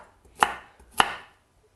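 Two sharp knife chops on a cutting board as vegetables are cut with the blade lifted each stroke, spaced about half a second apart, each with a brief ringing tail.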